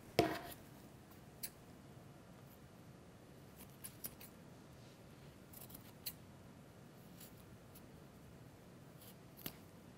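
Scissors cut recycled parachute fabric in a quiet room: a sharper opening snip, then sparse, faint cuts at irregular intervals.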